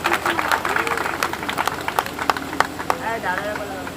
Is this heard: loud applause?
yes